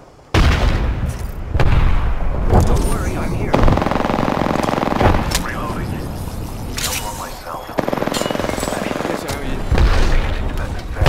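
Apex Legends combat with a loud frag grenade blast among dense automatic gunfire and booming shots, nonstop and close, with character voice lines talking over the battle.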